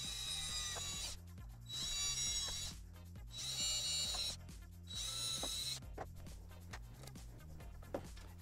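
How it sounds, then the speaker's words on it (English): A power drill whirs into an enclosure holding a circuit board in four bursts of about a second each, separated by brief pauses, then quieter mechanical rattling follows. "if you can hold the board steady and still drill"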